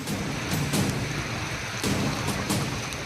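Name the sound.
heavy rain during Maharashtra floods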